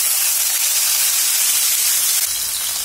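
Four tomatoes drop into a hot pan already holding Kashmiri red chilli and chilli powder for moong dal khichdi, setting off a loud, steady hissing sizzle that runs unbroken throughout.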